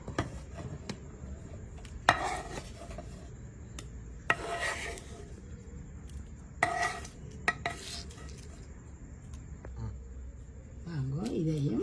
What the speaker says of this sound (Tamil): இப்போ இந்த வெங்காயத்தை போட்டு இடிக்க போகிறோம்